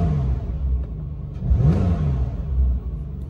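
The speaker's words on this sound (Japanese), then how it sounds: "じゃあちょっと暖気も落ち着いたので踏んでみたいと思います" A 2018 Porsche 911 Carrera T (type 991.2) engine, warmed up, accelerates with a deep, steady rumble that swells into a rising rev around the middle, then settles and builds again; loud and close, with no talk.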